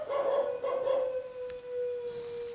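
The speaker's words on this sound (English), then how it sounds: "The dog's making noise." A dog howls and whines in a few drawn-out, wavering cries close by, tapering into a long sustained tone, with no talk over it.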